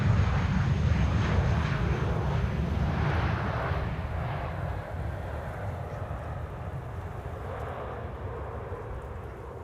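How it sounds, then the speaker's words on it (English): A United airliner landing at Amsterdam Schiphol Airport rumbles in a broad, loud engine roar that gradually fades as it passes, with no talk over it. "Another TUI in the meantime landing here. Yeah, it is United."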